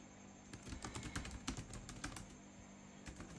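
A computer keyboard clatters as a code comment is typed during a machine learning coding session, with quick irregular bursts of soft keystrokes, close and fairly quiet, no voices.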